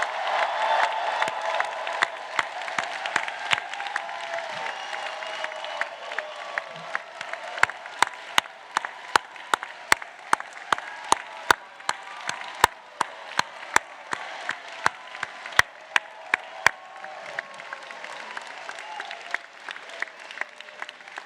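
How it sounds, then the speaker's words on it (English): Sustained applause from a large crowd at a Stanford GSB graduation ceremony for the MBA, MSx and PhD class of 2025, a steady dense wash of clapping lasting throughout with sharp individual claps standing out. "Let's have one final round of applause for the GSB class of 2025."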